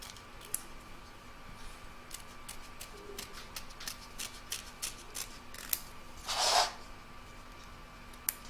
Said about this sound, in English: now I can remove the excess fabric from around the edge